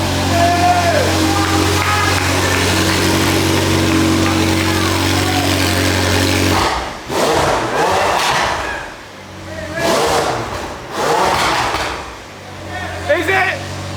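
McLaren 720S supercar engine firing up, a loud steady low rumble that breaks into rougher, fluctuating revving surges with shouting voices around it.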